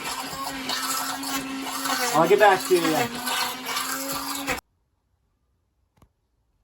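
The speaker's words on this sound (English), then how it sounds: "you can just use an immersion blender and smooth it up." An immersion blender purees pizza sauce with a steady, fairly loud motor whir for about four and a half seconds, a voice talking over it, then it cuts off into silence.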